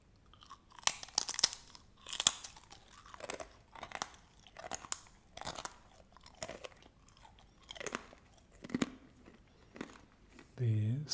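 Taro chips are bitten and chewed up close, producing sharp crunches roughly once a second, each followed by softer chewing crackle, loud against a quiet background.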